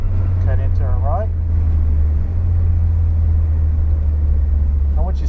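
A Porsche's engine rumbles low and steady from inside the car as it drives around a track, loud and constant, while a voice talks over it now and then.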